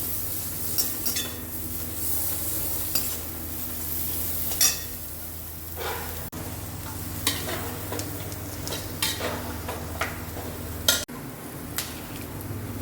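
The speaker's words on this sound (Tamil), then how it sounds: "இது கூடவே 2 பச்சை மிளகா, நல்ல சின்ன தீயில வச்சு எல்லாம் வதக்கி எடுத்துக்கலாம்." Green chillies and masala for kada gravy sauté in a pan on a low flame, with a soft continuous sizzle and a spoon stirring and scraping, plus occasional sharp clinks against the pan.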